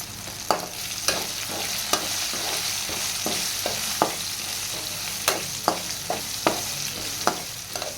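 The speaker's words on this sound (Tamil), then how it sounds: "இப்போ வெங்காயம் நல்லா வதங்கிடுச்சு" Onions sautéing in oil for brinjal gravy give a continuous close sizzle, with scattered sharp scrapes and taps of a stirring spoon against the pan at uneven intervals, no speech.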